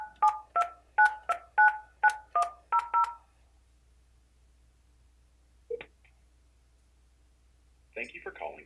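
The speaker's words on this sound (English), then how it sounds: "I'm going to dial the main icon number." Touch-tone keypad beeps from an Alcatel-Lucent ALE-400 desk phone as an outside number is dialed, about eight evenly spaced, clear tones followed by quiet and a few faint clicks and a brief distant voice.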